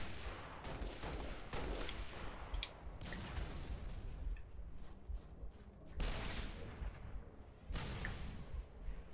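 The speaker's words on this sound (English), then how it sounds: "We got a sniper over there trying to shoot my ass." Gunfire in a Halo: Master Chief Collection multiplayer match, with sniper shots among dense, rapid bursts that run almost continuously, loud and close, with brief lulls.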